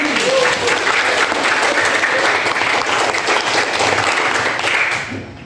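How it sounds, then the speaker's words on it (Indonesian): A classroom gives a student steady applause, dense overlapping clapping at an even level for about five seconds before it fades slightly at the end. "Iya, tepuk tangan untuk Mili."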